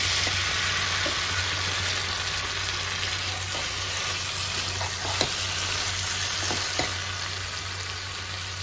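Young jackfruit cooks in a pan, giving a steady, moderately loud sizzle and fry hiss with occasional soft clicks of stirring, no voices.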